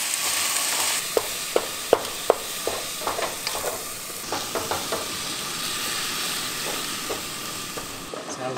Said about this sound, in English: Now we're gonna break it up and brown it and cook it all the way through